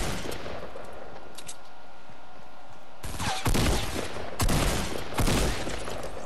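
Shotgun blasts in the Fortnite video game: three loud, close booming shots spaced about a second apart, following a stretch of quieter game ambience.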